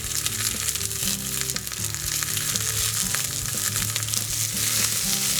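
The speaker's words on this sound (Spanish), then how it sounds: "le voy a incorporar el alga nori para que se tueste también un poco" Onion and nori seaweed frying in a pan for a vegan black rice dish make a loud, continuous sizzle with faint stirring underneath, and no one talks.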